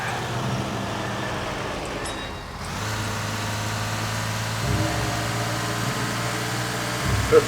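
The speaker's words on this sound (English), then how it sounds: "I'll have to chase him in a fire truck." A fire truck engine in the video game L.A. Noire drones at a low, steady rumble for several seconds, with a brief dip partway through and a slight rise near the end.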